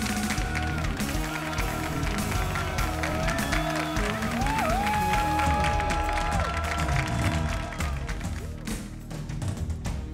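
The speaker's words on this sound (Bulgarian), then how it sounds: "Аплодисменти за жрицата на Мелпомена и любима актриса на шоуто София Бобчева!" Studio audience applause for an actress on a Bulgarian television talk show, a broad wash of clapping mixed under loud sustained music throughout.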